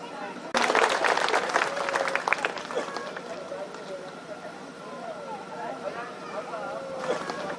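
An audience at a foundation day ceremony of a farmers' cooperative society breaks into loud applause that gradually fades, with someone talking over a PA during and after it.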